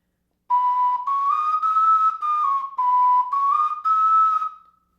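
Breathy, thin tenor ocarina high notes, played with weak breath, sound alone in a short wavering phrase, each tone airy and slightly unstable in pitch.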